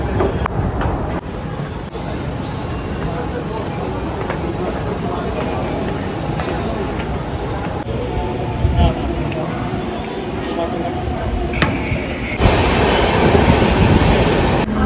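Train at Matunga railway station, a loud continuous rumble of rail cars with clattering wheels and brief squeals, carrying on under the general platform noise.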